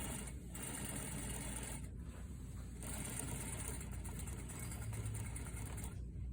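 A sewing machine runs steadily, stitching a quarter-inch seam on a shirt placket sample, with a continuous close whirring hum and rapid needle chatter from start to finish.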